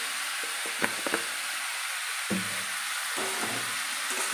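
Potatoes stir-fried in fish oil sizzle steadily in a pan, with scattered scraping clicks from stirring over a constant hiss.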